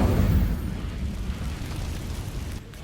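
A fiery Incendio spell blast in Hogwarts Legacy erupts as a loud, close burst with a low rumbling roar, then fades into a steady sustained crackle.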